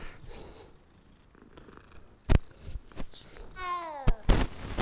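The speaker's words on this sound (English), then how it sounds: "I must pat the kitty." A cat in the video game Hogwarts Legacy purrs softly, then gives a clear rising meow near the end, with a few sharp clicks and thumps from the game around it.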